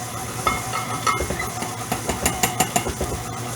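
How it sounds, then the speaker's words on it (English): An electric mixer churns thick snickerdoodle dough, giving a steady motor drone with rhythmic thumping and slapping pulses that quicken and grow more pronounced toward the end. The sound is close and heard without voices. "as you can see, the mixer's working"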